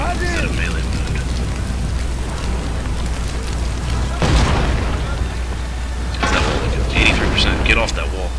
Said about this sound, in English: All our gunpowder units are switched to firing instead of melee.